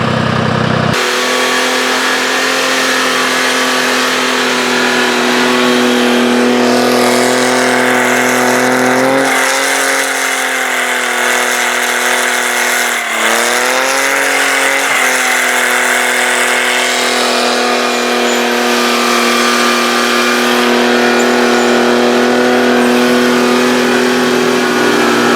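A Timberjack forestry machine's diesel engine with a new exhaust drones from inside the cab, loud and steady, its pitch climbing and dipping as it revs up and eases off, with no talk over it.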